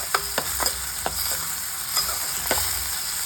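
Food sizzling and being stirred in a small amount of leftover fish-frying oil, a steady close hiss of frying with sharp scraping and tapping stirs scattered throughout, no talking.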